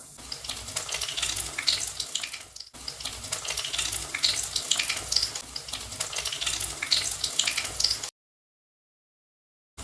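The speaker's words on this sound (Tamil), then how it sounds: "இப்போ நம்ம நக்கட் பீசஸ் ஒவ்வொன்றையும் இந்த எண்ணெயில் நல்லா ஃப்ரை பண்ணி எடுத்துக்கலாம்" Potato nugget pieces frying in hot oil at medium heat, a dense continuous close crackle and bubbling with a brief dip midway, then cutting to silence near the end.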